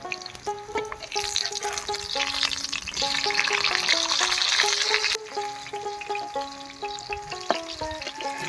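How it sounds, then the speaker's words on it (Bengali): Pumpkin fritters fry in oil with a constant bubbling sizzle that swells and then settles, heard beneath background music with no talking. "এবার বড়াগুলো ভেজে নিই।"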